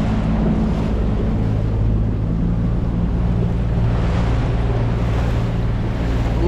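Ocean surf breaking heavily in dangerous swells, heard from a Highfield RIB boat out at sea, with a constant loud wash of water and strong wind buffeting the microphone throughout.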